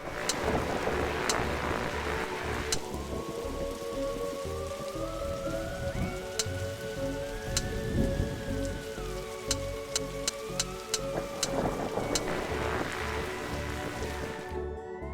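Storm rain patters steadily in The Darkside Detective, a constant hiss of drops on surfaces with a faint rumble underneath and small clicks and tones over it, no talking.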